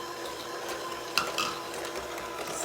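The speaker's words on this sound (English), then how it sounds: "Kind of mix that around, making sure that there are no granules that are not incorporated into the butter." Butter and sugar being mixed in a bowl for Victorian vinegar cookies, a continuous soft scraping and stirring with a brief clink of the utensil.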